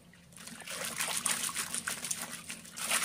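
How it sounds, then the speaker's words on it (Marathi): Water trickles and splashes unevenly through a strainer as it is drained off soaked wheat starch in a home kitchen, a close, fairly soft pour that swells and fades over a few seconds. "आणि हे पाणी सुद्धा आपल्याला गाळून घ्यायचं आहे।"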